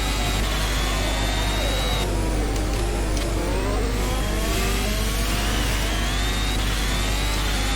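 A Formula 1 car in the rFactor F1 2020 sim screaming down the main straight of the Vietnam Grand Prix circuit, loud engine whine climbing through upshifts with brief dips between gears, close and continuous with no talking.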